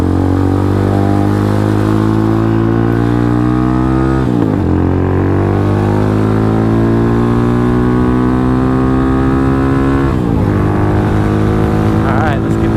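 A Venom X22R motorcycle engine runs loud and close, revving steadily upward in pitch, dropping briefly around a gear change, then climbing again in a long continuous rise.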